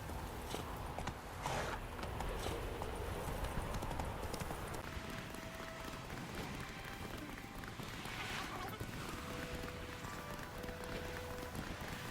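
Rapid hoofbeats of Geralt's horse Roach galloping in The Witcher 3: Wild Hunt, a steady dense clip-clop rhythm throughout, close and loud, with a voice speaking over part of it.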